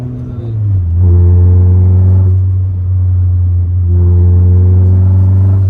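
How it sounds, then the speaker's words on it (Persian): A loud car engine idles low, then revs up twice in strong surges, its deep steady drone rising and settling between the bursts. "البته این ماشین خودش صداش آهنگه"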